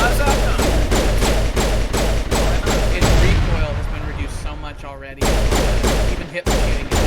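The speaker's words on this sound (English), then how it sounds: "Go ham on him with a pistol." Pistol fire in the video game Mass Effect, a rapid, evenly spaced string of loud shots that stops for about two seconds, then resumes, with a voice talking over the gameplay.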